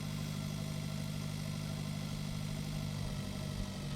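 Tractor engine in the farming game Pure Farming 2018, a steady low idling drone running at constant loudness throughout with no talk.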